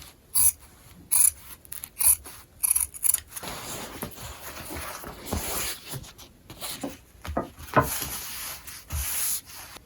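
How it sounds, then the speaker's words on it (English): Scissors cutting through the back of a Japanese kimono obi, a run of sharp crisp snips followed by longer rasping cuts through thick fabric, close and clear. "I'm going to cut the back side of the obi"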